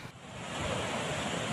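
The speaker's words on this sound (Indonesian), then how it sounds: "Tanggul tak mampu menahan besarnya volume air." Flood water rushing through a breached embankment on the Wulan River in Ngeplik Wetan village, Demak, Central Java, a steady loud roaring wash that swells slightly and continues without break.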